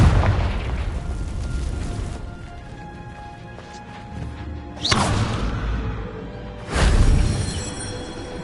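Blasting spell explosions in Hogwarts Legacy: a loud broadband boom opening the clip, then two more sharp bursts around five and seven seconds, each with a rumbling tail over a steady background hum.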